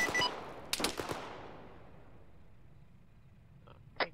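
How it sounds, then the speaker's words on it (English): Machine gun fire in the video game Arma 3, a quick loud burst of rapid shots at the start that fades into a long echoing tail, followed by a faint, more distant short burst near the end. "Do you hear that big fucking machine gun?"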